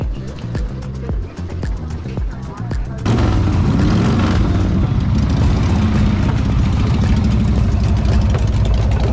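Several motorcycles, chopper-style bikes at a riders' meetup, start up at about three seconds and then idle together in a loud, steady, throbbing low rumble. Talk and light noise come before the engines fire.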